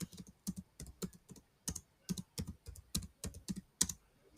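Someone types a prompt on a computer keyboard, producing a quick, close series of crisp key clicks in irregular bursts, fairly quiet, with no talking.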